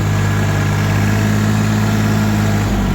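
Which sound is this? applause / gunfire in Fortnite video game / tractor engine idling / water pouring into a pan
tractor engine idling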